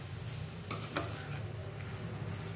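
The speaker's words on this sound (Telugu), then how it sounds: "కొంచెం 1 నిమిషం అలా వేగనిద్దాం." Potato kurma masala fries in a pan with a soft, low sizzle while a spoon stirs it, and a couple of brief scrapes and clinks stand out near the start.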